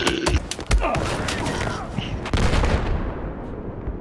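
Rapid .45 caliber gunfire in Battlefield 4, a dense burst of loud shots and thuds that carries on under the game's battle noise.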